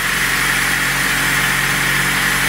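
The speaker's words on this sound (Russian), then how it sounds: "Все, прогреваем двигатель, регулируем затем карбюратор," A carburetor engine warms up and idles after a repair, a steady and loud running drone with no pauses throughout.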